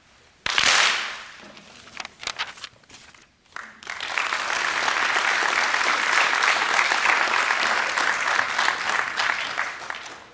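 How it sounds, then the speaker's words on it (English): An audience at a university investiture ceremony breaks into loud, sustained applause that swells after a few scattered opening claps and holds steady as a dense, roaring wall of clapping. "Please join me in one final thunderous clap for Scott President Mollander."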